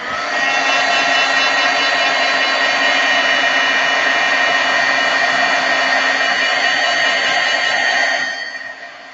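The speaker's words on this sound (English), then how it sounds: "now if I heat set this, so I am going to use my heat tool" A craft heat tool blows hot air over pigment ink to set it, making a loud, steady, close whirring hum like a hair dryer that holds for about eight seconds and then trails off.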